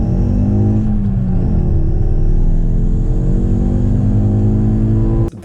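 A Ford Focus ST Mk2 with over 350,000 km accelerates hard, its engine note rising steadily through the revs in a loud, close, continuous pull before cutting off abruptly at the end.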